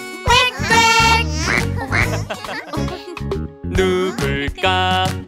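A singing voice in a children's song imitates a duck with a run of loud, bright quacks in a bouncy rhythm, alongside cheerful backing music.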